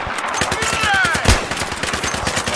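Rapid automatic gunfire in the Battlefield 3 multiplayer shooter, a steady stream of evenly spaced shots with one louder heavy blast in the middle, close and continuous.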